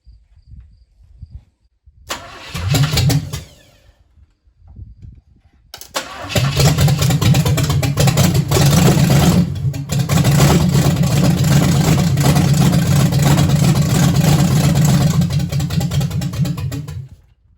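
An old 350 car engine, unrun for 27 years, cranks briefly, sputters, then catches and settles into a loud, steady running rumble that continues to the end.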